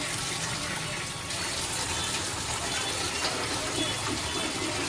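Tap water gushes steadily into a metal pot (handa) being filled, a continuous close splashing rush that holds level throughout, with faint voices in the background.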